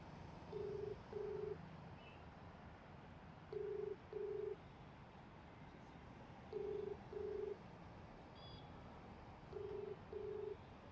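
An outgoing phone call rings unanswered on the line, with a faint double-pulse ringback tone repeating four times at a steady interval over low background hiss.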